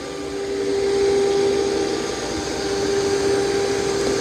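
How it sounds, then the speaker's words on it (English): An iRobot Roomba Plus 505 Combo robot vacuum and mop runs on carpet with its mop pads lowered, giving a steady, fairly loud motor whir with a constant tone and no talk. "it's going to vacuum and mop at the same time"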